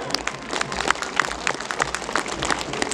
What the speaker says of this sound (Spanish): ¡Para ellos el aplauso!